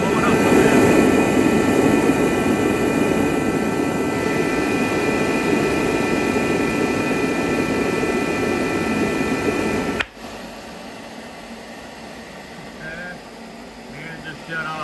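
A forced-air torpedo heater roars loudly with a jet-like burner rush for about ten seconds, then abruptly cuts out, leaving a quieter background; a person speaks over it.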